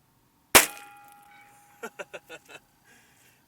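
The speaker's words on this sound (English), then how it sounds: "See if I can back up here and shoot that aspirin off without damaging the light bulb." A single sharp pistol shot cracks at an aspirin set on a light bulb, loud and close with a ringing tail, followed a moment later by a quick run of five lighter clicks or knocks.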